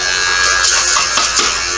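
We R Memory Keepers Revolution die cut and embossing machine jammed with a large piece of paper in its blade, a harsh continuous electric whirring buzz, close and loud, alone.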